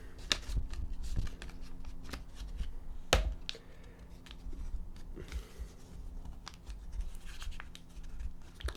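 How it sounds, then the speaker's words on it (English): Crisp paper creasing as a folded dollar bill is pressed flat for an origami cat, with soft rustles, scrapes and taps of fingers on the note, one sharper crackle partway through, all close and fairly quiet. "And you can crease that down."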